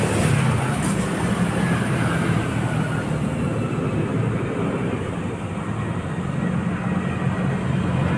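A loud, sustained low rumble of an LRT train passing close overhead, heard from underneath the elevated track, a steady roar with rattling texture that holds throughout.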